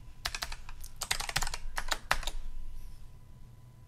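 A password being typed on a computer keyboard: a quick burst of rapid, close key clicks with a brief pause midway, then settling into quiet room tone.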